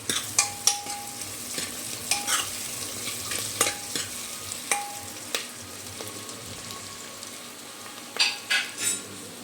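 Chopped onions and green chillies sauté in a pan as a steady low sizzle, broken by frequent sharp scrapes and clinks of a spatula stirring against the metal, close and clear with no voices.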